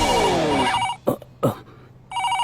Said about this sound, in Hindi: ये लो घंटी बजी